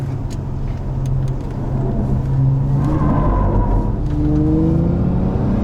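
A Hyundai Ioniq 6 N drives on a race track, making a loud, steady rumble of road and motor noise with a rising whine that climbs and falls as it accelerates through bumps and elevation changes.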